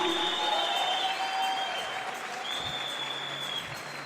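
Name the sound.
congregation applauding for Jesus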